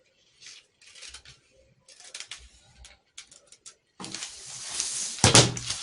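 Scissors snipping through paper while cutting a pattern piece for a dart manipulation blouse, several short close cuts with gaps, ending in a louder rustling, scraping burst.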